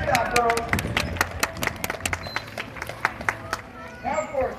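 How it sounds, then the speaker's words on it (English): A crowd applauds a California sea lion show at a zoo with steady, dense clapping that carries on throughout, with a few scattered cheers near the end. "Let's give our sea lions a huge round of applause for that."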